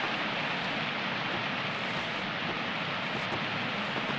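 Steady rain falls in a Russian indie horror video game, a dense, even hiss of downpour that holds unbroken and moderately quiet throughout.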